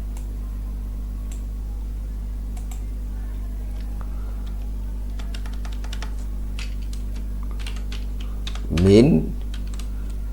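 Keys tapping on a computer keyboard while building a web page, soft scattered clicks throughout under a steady low hum, with a brief spoken word near the end.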